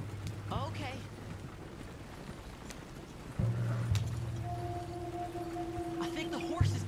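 Horse hooves clip-clopping at a steady walking pace in Red Dead Redemption 2, with a low rumbling ambience that swells midway and an occasional tonal hum layered over the hoofbeats.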